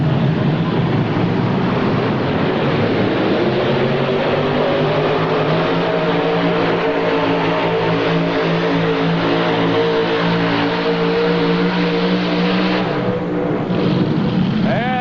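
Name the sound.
tractor pull engines roaring at 1986 TNT Indy Super Pull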